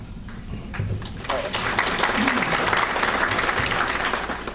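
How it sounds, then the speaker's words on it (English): A crowd breaks into applause that swells and holds steady, many hands clapping together at a moderate distance. "I was about to say hold your applause, but I was a little late to the charge on that one"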